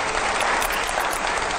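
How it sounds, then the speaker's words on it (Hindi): Studio audience applause during a TV9 televised interview, a loud, even burst of many hands clapping that fills the whole moment without a break. "जोरदार तालियां हो जाए जरा"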